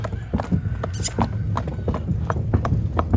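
A seven-year-old draft horse mare walks on a farm in Ukraine, her hooves clip-clopping in a steady, close rhythm of distinct knocks.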